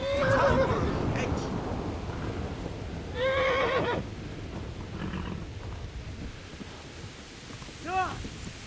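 A horse in the medieval game Kingdom Come whinnies twice, loud and close, with a softer snort at the end, over a steady rumble of galloping hooves and wind; a voice speaks briefly.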